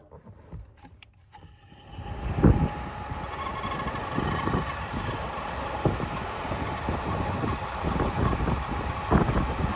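A small blower fan motor in a 2014 VW Passat TDI spins up after a brief quiet start, then runs with a steady whirring drone and light rattling, close to the microphone.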